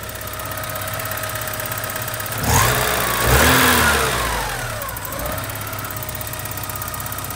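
A Porsche 944 that sat unused for 14 years cranks and fires up, rising into a couple of rough revs before settling back to a steady, somewhat knocking idle, heard close by with no talking.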